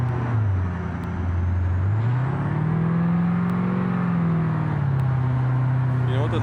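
A video-game space car's engine holds a high, droning rev that swells and dips in pitch for several seconds, loud and continuous, while a person talks over it.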